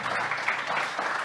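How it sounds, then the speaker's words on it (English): An audience at a panel discussion on women's football applauds the panelists, producing a brief, dense and continuous patter of clapping. "So I'd like to give a round of applause again to our panelists."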